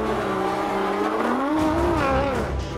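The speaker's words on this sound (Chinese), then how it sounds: "零百加速跑进三秒究竟有多难？" Nissan GT-R sports car launching hard from standstill, a loud rising engine roar with tire squeal as revs climb steadily, close and continuous.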